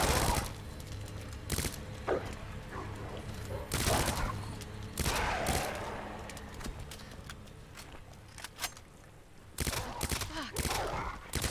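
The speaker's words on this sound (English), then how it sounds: "best to use the Uzi on these doggies" Uzi gunfire against dogs in Resident Evil 2 Remake, sharp bursts of rapid shots in several separate volleys with gaps between, loud and close, over game ambience with occasional speech.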